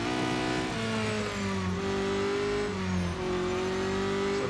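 Race car engine in the Real Racing 3 mobile game revving and shifting through gears, a loud, steady whine that climbs and drops in pitch as the car turns around on the Monza circuit, with no talking.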